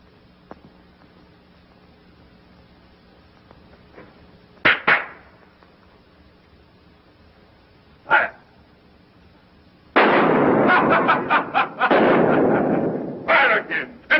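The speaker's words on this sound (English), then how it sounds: "Fire again. Empty your gun." Gunshots from a handgun in a 1933 drama film, a few sharp isolated cracks followed by a dense rapid volley of repeated shots, loud and close, with no talking over them.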